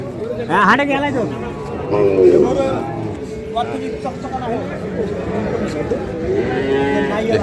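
Dairy cows, including Sahiwal, Sindhi and local breeds, moo loudly several times at a busy rural cattle market in Ambari, with people talking and bargaining all around.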